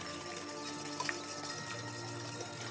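Water being warmed in a pot for a double boiler to heat meringue in a chef's kitchen, a faint, steady watery hiss and bubble with a low background hum and a couple of small clinks, no talking.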